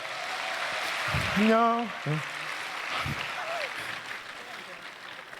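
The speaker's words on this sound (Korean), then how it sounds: "우리 청년 두 분에게도 우리 박수 한번 주시겠습니다" Applause from a church congregation during a special evening thanksgiving service, a broad wash of clapping that starts under a few brief spoken words and then carries on alone.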